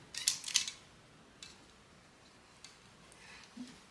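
A Sun mini hand sewing machine stitching through cloth gives a quick pair of sharp, staple-gun-like clicks up front, then a few fainter mechanical ticks spread out and close by, with no talking.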